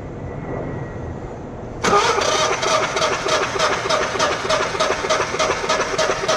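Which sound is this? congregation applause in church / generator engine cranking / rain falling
generator engine cranking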